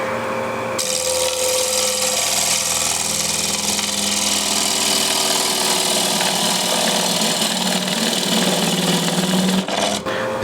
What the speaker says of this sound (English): Just remove the shavings here